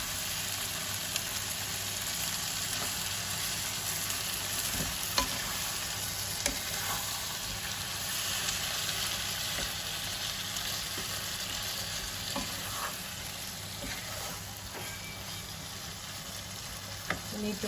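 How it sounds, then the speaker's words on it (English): Mutton keema with fat fries in masala, giving a constant close sizzle with occasional stirring scrapes and small pops, steady and unbroken. "You need to fry this up."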